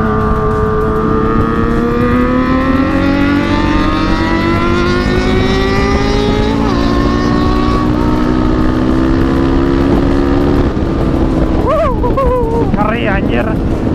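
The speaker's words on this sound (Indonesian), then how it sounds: "Mungkin suara gue bakal ketutup sama suara motor." Kawasaki KLX 240cc bored-up supermoto and ZX-25R motorcycles riding on a road, with a steady loud engine drone and rising revs under wind noise throughout, and a voice talking over it.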